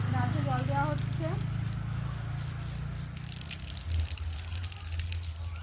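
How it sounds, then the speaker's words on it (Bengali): Water pours steadily onto garden plants in a continuous close rush, with voices talking briefly at the start. "দেখুন গাছে জল দেওয়া হচ্ছে।"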